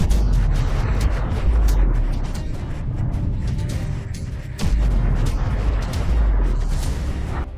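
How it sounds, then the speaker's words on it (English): Missile strike explosions at a military base during an Iranian attack on U.S. forces, a loud continuous rumble of heavy booms and blasts with repeated surges, no talk. "Medium-range missiles descending from high altitude, compressing reaction time to seconds."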